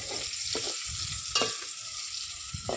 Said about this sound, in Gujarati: ચાલો શેકી લઉં ડુંગળી.